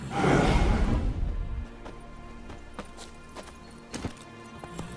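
Roach, Geralt's horse in The Witcher game, lets out a loud spooked snort and whinny up close, followed by scattered sharp hoof clops at a slow, uneven pace.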